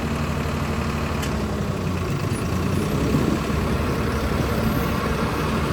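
A Swaraj 969 CRDI tractor with a front weight and fiber hood runs its engine at a steady, close rumble, with a constant low drone and a faint high whine above it.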